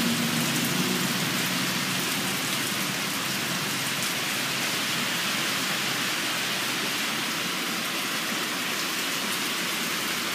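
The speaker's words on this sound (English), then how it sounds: "Today it's pretty heavy rain." Heavy rain pouring in Ao Nang, Thailand, a dense, steady hiss of drops pattering on surfaces close by, unbroken for the whole stretch with no voices.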